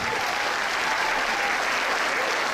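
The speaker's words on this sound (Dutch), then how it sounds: "En nog een groot applaus voor de band," Audience at a 2016 seniors' song festival final applauding the band, a thick, continuous roar of clapping from a large crowd, loud and even throughout.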